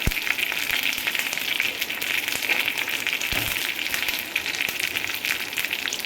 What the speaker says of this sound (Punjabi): ਘਿਓ ਆਪਣਾ ਗਰਮ ਹੋ ਚੁੱਕਾ ਹੈ ਇਹਦੇ ਵਿੱਚ ਪਾਨੇ ਆਪਾਂ 8-10 ਪੱਤੇ ਕੜੀ ਪੱਤਾ ਇੱਕ ਚਮਚ ਆਪਾਂ ਰਾਈ ਦਾ ਪਾਨੇ ਆ